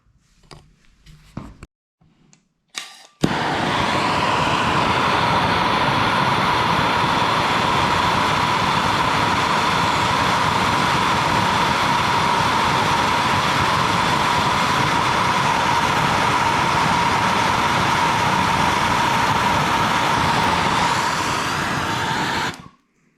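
A torch heats a seized bolt on a cylinder held in a vise, giving a loud, steady roaring hiss that runs unbroken for about twenty seconds after a few faint clicks at the start.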